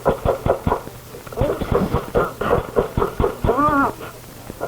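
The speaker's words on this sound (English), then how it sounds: "stop! Banging on that door." Repeated heavy banging on a door in a 1979 CBS Radio Mystery Theater drama, a run of evenly spaced knocks at the start followed by more thuds mixed under dramatic voices talking.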